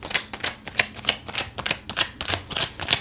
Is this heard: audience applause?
no